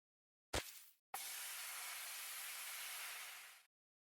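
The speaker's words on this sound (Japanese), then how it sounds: "野菜も炒めます。" Vegetables for Japanese curry hit a hot pan, a short sharp hiss followed by a loud, steady sizzle that holds for a few seconds before cutting off.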